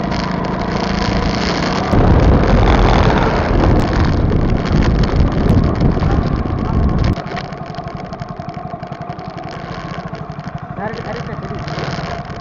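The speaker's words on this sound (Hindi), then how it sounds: "तो अब इस बार हम घूमेंगे इस बाइक से।" A motorbike ride through a village, with heavy wind buffeting the microphone and a steady engine drone throughout; the roar is loudest early on, then drops to a quieter, continuous rumble.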